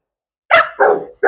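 A Malinois dog barks during obedience training: two close, loud barks in quick succession, then the start of a third, with no talk over them.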